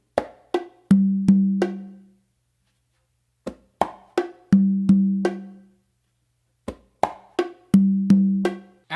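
A conga tumbao groove repeats three times: quick crisp slaps on the macho followed by two deep, resonant open tones that ring out, with short pauses between phrases and no talking.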